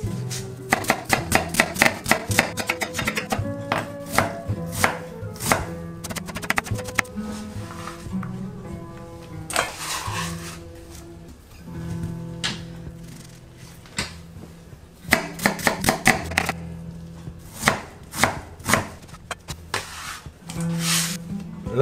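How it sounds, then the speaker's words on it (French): Knife rapidly chopping onion and garlic on a cutting board, bursts of quick, close, crisp taps with short pauses between runs, heard alone without talk. "on va ciseler l'oignon, concasser l'ail"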